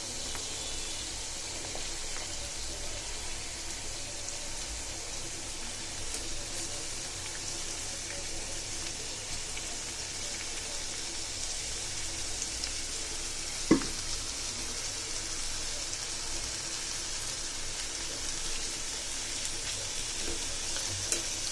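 Ridge gourd and potato pieces, coated in salt and turmeric, sizzle steadily in a pan of hot oil after onion, garlic and green chilli were fried, a constant close hiss with one brief sharp clink midway.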